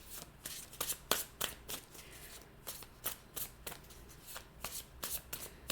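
Tarot cards shuffled and drawn from several decks: quiet, close, crisp riffling and flicking bursts repeating at irregular intervals, with no talk.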